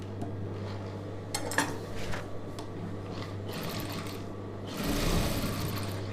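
A sewing machine stitches a star-neck chudidhar in short bursts of mechanical clatter over a steady low motor hum, with clicks and pauses between runs, close and moderately loud.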